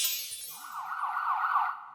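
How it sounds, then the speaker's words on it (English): An emergency vehicle siren wails loud and close, a sustained high tone holding steady for over a second after a brief rising sweep, then cutting off. "Sirens are on, all right."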